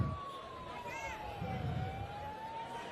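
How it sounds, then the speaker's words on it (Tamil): An ambulance siren wails steadily through a crowd at a street campaign rally, holding a sustained tone that slowly falls and rises under loud crowd noise and voices. "ஆம்புலன்ஸ்"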